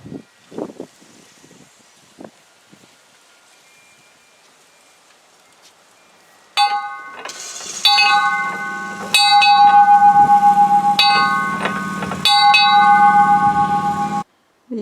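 A freshly painted dinner bell on a home's wooden deck is rung in several loud, clanging bursts with long ringing tails, after a stretch of faint rustling and wind.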